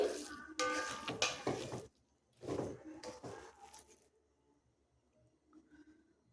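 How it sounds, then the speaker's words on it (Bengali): A pan of semolina upma being stirred with jaggery, giving a few close scraping and clinking bursts of spoon against metal in the first two seconds and again around three, then falling to near silence with faint faraway knocks. "গুড় দিয়ে সামান্য কিছুক্ষণ আমি সুজিটাকে নাড়াচাড়া করলে"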